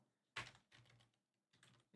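A few quiet keystrokes on a computer keyboard come in short, separate clusters in a quiet room, with no talking.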